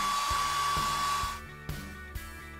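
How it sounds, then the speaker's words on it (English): A hair dryer blowing long hair, a loud steady whining whoosh that cuts off partway, followed by a few faint knocks and bumps. "I'll blow dry my hair for 5 minutes."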